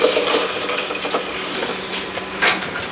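Water pours into an Instant Pot for a cranberry chicken dish, a steady splashing pour with bright spattering and a short louder burst near the end, alone with no talk.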